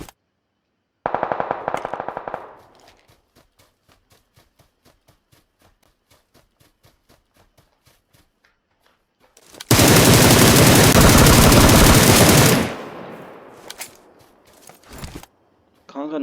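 Automatic gunfire in PUBG Lite on the Sanhok map: a short loud burst, then a long run of evenly spaced quieter shots, then a harsh, very loud sustained blast of rapid fire that tails off.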